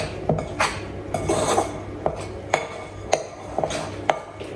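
Scone dough is cut through in a mixing bowl, a utensil striking the bowl in sharp irregular clinks between soft scraping and rubbing, close and clear with no speech.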